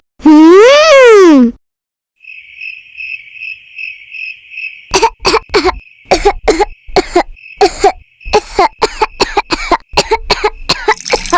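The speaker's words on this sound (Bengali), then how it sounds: "আপনার হঠাৎ এত কাশি কেন হচ্ছে?" An animated cartoon character coughs in a rapid series of harsh, close bursts, following a short spoken line and a steady cricket-like chirping tone.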